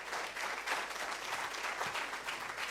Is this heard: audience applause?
yes